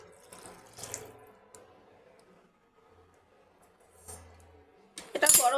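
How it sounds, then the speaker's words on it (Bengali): Water is poured into an egg curry simmering in a pan in a home kitchen, with faint clinks and short splashy bursts, then a louder, close pour at the very end. "এবার আমি আরও কিছুটা জল দিয়ে দিচ্ছি"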